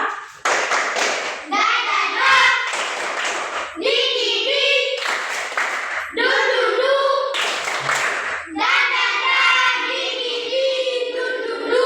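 Schoolchildren in an Indonesian classroom perform a rhythmic clapping chant as an ice-breaker, bursts of sharp clapping in set patterns alternating with loud voices chanting together, repeated several times.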